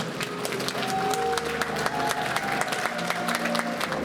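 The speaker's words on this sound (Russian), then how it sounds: "Вот аплодисменты." Steady applause from an audience as an 11th-grade class is led into the hall at a graduation certificate ceremony, with a sustained tone and music-like hum running underneath.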